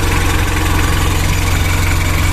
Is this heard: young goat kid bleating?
no